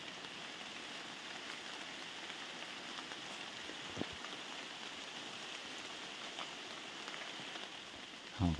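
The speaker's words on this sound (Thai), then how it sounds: "ฝนตกเลย" Steady rain falling outdoors, a continuous even hiss of drops with occasional louder splashes, heard alone with no talking.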